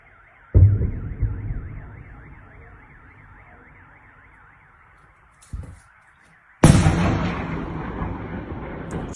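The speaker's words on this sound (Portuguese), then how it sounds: "as bombas explodindo aqui" Bombs exploding in Melitopol, Ukraine, during a bombardment: one heavy boom, then a shorter blast and another big one with a long rumbling tail, all over a steady warbling alarm tone.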